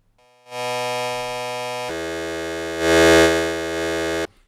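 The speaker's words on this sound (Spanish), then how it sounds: "voy a meterle una distorsión bastante fuerte" A Harmor synth in FL Studio plays a steady buzzing tone that abruptly turns harsher and grittier under strong distortion, holding loud for a few seconds before cutting off, with no voices.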